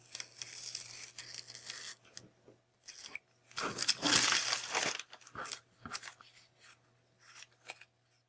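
Scissors cutting banana paper for watercolor paper earrings, close and crisp, with irregular bursts of snipping, tearing and crinkling separated by short quiet gaps.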